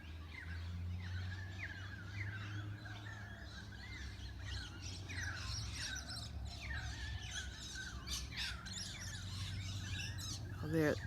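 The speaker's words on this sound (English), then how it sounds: "Sounds like there's more than one." Several birds call from tall trees, a scatter of repeated chirps and whistling notes at moderate distance over a low steady background rumble, faint and overlapping throughout.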